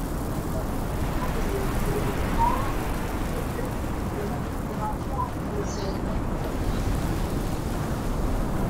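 A rainstorm in the survival game Icarus, a steady dense wash of rain and wind noise filling the scene, constant and fairly loud with no breaks.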